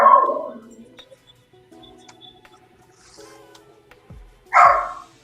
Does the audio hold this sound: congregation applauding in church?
no